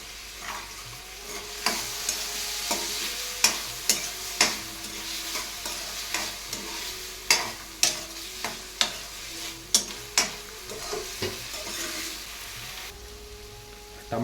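Tomatoes with salt cooking in a pan for a cucumber sambar, a soft continuous sizzle broken by a regular series of sharp scraping taps as a spoon stirs and knocks against the pan, close and without talking.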